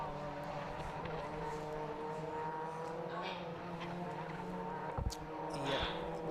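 Race cars at an Oulton Park club race day lap past at speed, a sustained engine drone with a couple of sharp bursts near the end, heard at moderate distance.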